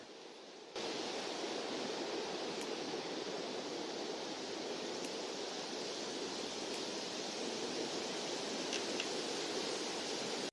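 Steady, full rushing water noise, like a flowing river, continuous and fairly loud after a brief quiet start, with no voices.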